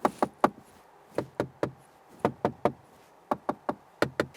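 Knuckles rap on the hard plastic door panel inside a SEAT Arona SUV cabin, giving sharp, close, hollow knocks in quick groups of two or three with short pauses between, otherwise quiet.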